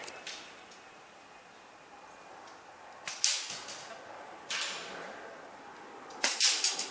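A Rat Works Ranger air rifle fitted with a reducer fires outdoors, the sharp crack landing after a quiet stretch, followed by brief clattering and further sharp snaps as people react nearby.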